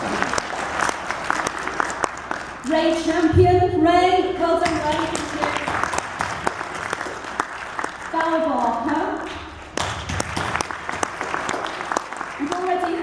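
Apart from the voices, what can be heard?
audience applause for named people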